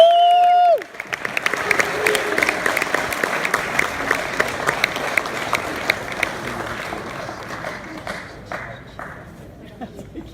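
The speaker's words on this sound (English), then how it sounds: "Please join me as we applaud Douglas Pilawa on his induction into the Hall of Fame." An audience at a Skidmore College Hall of Fame induction bursts into sustained applause right after a short spoken line, the clapping dense and lively at first, then slowly thinning out.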